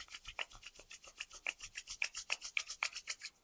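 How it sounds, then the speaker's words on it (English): Two palms rub together briskly in a steady back-and-forth rhythm, roughly a dozen dry swishing strokes, close and soft, with no talking. "Slowly we rub our palms."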